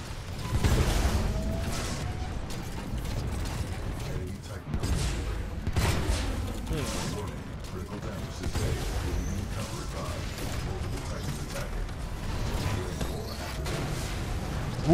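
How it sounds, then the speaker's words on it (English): Continuous loud gunfire and explosive blasts from Titanfall 2 Frontier Defense, with dense thuds, booms and clattering mechanisms running throughout, and a voice speaking now and then over the chaos. "All of the explosions! All of the flame, all of the fire, all of the glory."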